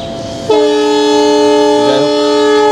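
A sustained, loud horn from the Rupsha Express train standing at a station, starting abruptly after a short stretch of station noise and holding its steady chord to the end.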